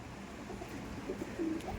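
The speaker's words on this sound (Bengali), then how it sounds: "দেখুন এই পায়রাটা কিন্তু হেভি লাগছে" Soft, low pigeon coos, a few short murmuring calls over quiet background noise.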